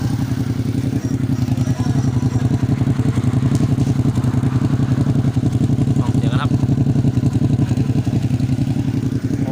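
A motorcycle engine, running after a battery replacement, idles with a loud, steady, close-up rhythmic putter and some light mechanical clatter, and someone speaks briefly over it.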